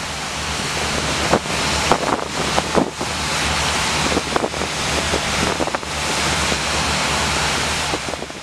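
USFP trailer-mounted jet gun monitor throwing more than 8,000 GPM of water, fed by a relay from a 6,250 GPM mobile pump, gives a steady loud roaring rush with wind buffeting the microphone and no speech.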